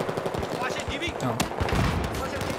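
Gunfire in Battlefield 4 online multiplayer on PS4: rapid machine-gun bursts and shots rattle through a busy mix of game sounds, fairly loud and close.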